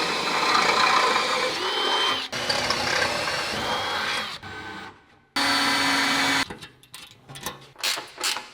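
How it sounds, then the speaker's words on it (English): A power drill bores oversized bolt holes for a 1/4-inch-bolt custom belly pan on a fourth-generation F-body car, running in loud sustained bursts with brief pauses and a sharp stop near the end. "Okay, we're going to drill these bolt holes."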